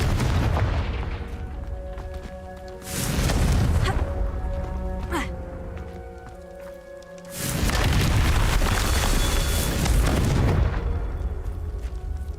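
Confringo fire-blast spell cast in the Hogwarts Legacy video game: two heavy, booming explosions a few seconds apart, each a loud broadband burst over steady game ambience and tonal music.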